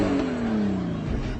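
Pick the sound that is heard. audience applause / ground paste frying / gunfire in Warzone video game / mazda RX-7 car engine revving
mazda RX-7 car engine revving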